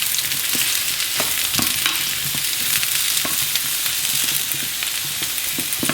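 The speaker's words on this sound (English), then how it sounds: "And that sizzle is really what you want to hear." Mushrooms dropped into hot oak-smoked Yare Valley oil sizzle in a pan, a dense steady crackle scattered with sharp pops and spits, close and alone.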